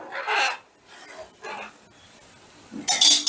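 Vinegar, oil, salt and chicken are stirred together in a bowl for chicken rice, giving short scraping, rasping strokes with light clinks, in a few separate bursts close by.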